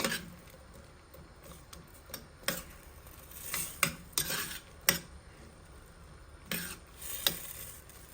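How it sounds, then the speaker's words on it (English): Chopped onion cooking in butter in a pan for creamed mac and cheese: a low steady sizzle, with scattered sharp clicks and scrapes of a utensil stirring against the pan. "now that I let my onion cook a little bit in the butter"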